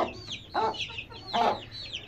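Three-week-old blue Indian Gurk chicks give short bursts of clucking and chirping, about three calls in two seconds, close by over a quiet background.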